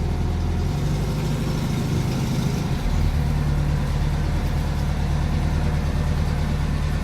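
A manual-transmission car engine idling close by, a steady low rumble that holds even throughout with a slight shift partway through, no speech.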